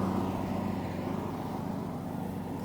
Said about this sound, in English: We got the lawn guy out here mowing today.